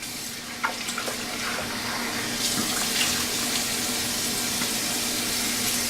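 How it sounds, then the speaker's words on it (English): Tepid tap water runs steadily from a faucet into a sink, a close, continuous rush with small splashes as hands scoop it onto a face, and no voices. "I'm just gonna splash some warm or tepid water on my face"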